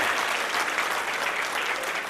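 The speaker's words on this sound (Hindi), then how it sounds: "ताली सबको दो साहब" Audience applause at a district cabinet installation event, a short burst of dense, steady clapping from a crowd.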